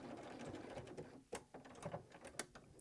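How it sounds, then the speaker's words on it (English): A quilting sewing machine stitches around a circle on a quilt, giving a quiet, close, steady mechanical whir with faint rhythmic clicks and occasional small knocks. "I'm going to rotate and stitch around the circle"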